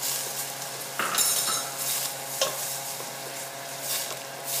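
Garlic and onion frying in a pan for a broccoli and cheddar soup, a steady crackling sizzle with occasional utensil scrapes and light clinks against the pot, no talking.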